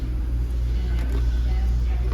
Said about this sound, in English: Watch out, Harry, here comes a car. Or I hear one.